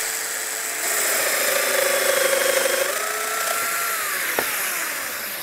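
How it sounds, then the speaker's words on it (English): High whining cutter mills a bolt hole into wood at a woodworking trade fair, starting up, holding a steady grinding pitch, then winding down with a brief click near the end. "mill the second hole."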